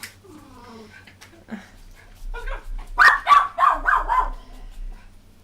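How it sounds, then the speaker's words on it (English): Several dogs bark in a quick run of loud, close yaps, after a stretch of quieter background sounds and faint voices. "Stop barking."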